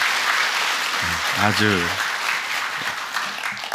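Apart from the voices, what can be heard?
church congregation applause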